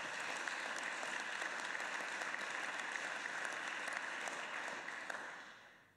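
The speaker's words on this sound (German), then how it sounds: "Applaus." Applause from the members of a city council session in Lucerne after an election result, a steady broad clapping that holds for several seconds before tapering off at the end.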